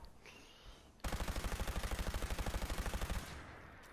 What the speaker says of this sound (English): I will show you how fast this thing can fire.